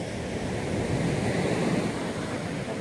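Ocean surf rolling and breaking on an Atlantic beach at Coast Guard Beach, Eastham, a steady, loud, continuous wash of waves with some wind noise and no voices.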